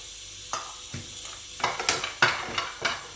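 Cashews and black raisins fry in a pan for caramel parippu payasam, a soft sizzle broken by a quickening run of short scraping stirs and light clinks close by.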